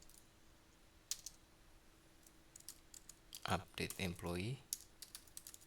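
Typing on a computer keyboard while writing code, with scattered clicks turning into a quick burst of keystrokes; someone talks over part of the typing.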